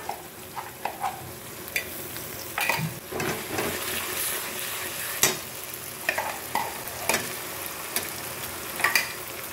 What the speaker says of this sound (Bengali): আমি মশলার পেস্টটা দিয়ে দিচ্ছি। আদা, রসুন, কাঁচা লঙ্কা, কাজু, 4 মগজ, এই পেস্টটা আমি দিয়ে দিলাম